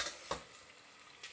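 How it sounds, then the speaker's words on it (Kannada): Onions frying in a pan for mutton biryani give a soft, steady sizzle, faint and brief, with a couple of light stirring knocks. "ಆನಿಯನ್ ಹಾಕೋಣ. ಚೆನ್ನಾಗಿ ಫ್ರೈ ಆಗಬೇಕು."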